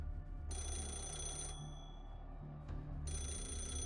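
A telephone rings with a bright, insistent electronic trill in the Fate/Grand Order video game, set in Shinjuku. Two bursts sound alone over a low game ambience, split by a short pause before the ringing returns.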